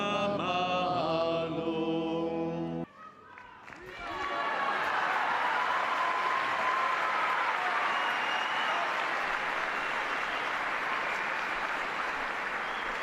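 About 7,000 people at a papal general audience in Paul VI Hall break into loud, sustained applause with some cheering, following a brief stretch of sung or spoken tones and a short pause.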